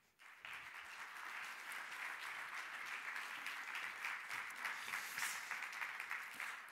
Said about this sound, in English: please clap your hands for Thomas Piketty.